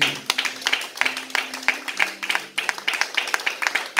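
A church congregation claps in a steady, rhythmic beat, sharp claps repeating over a low hum. The sound is fairly close.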